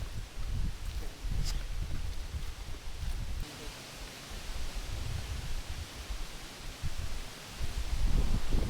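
Strong wind gusting through a forest at a camping spot on a hike, a steady broadband rush with low rumbling buffets that swell and fade, louder near the end.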